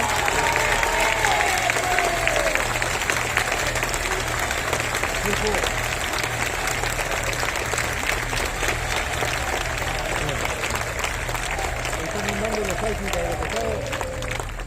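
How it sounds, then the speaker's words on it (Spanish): An audience at a political event applauds in a dense, continuous wash of clapping that lasts throughout, with voices talking and murmuring over it. "le vamos a mandar un caluroso aplauso"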